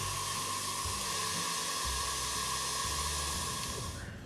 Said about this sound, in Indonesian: ini kita kocok di kecepatan tinggi.